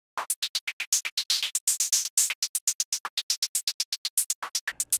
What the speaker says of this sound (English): I've got another file that makes sort of a hi-hat pattern from noise,